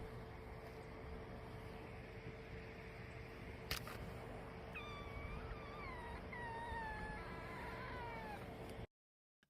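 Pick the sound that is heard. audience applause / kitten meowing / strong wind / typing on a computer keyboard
kitten meowing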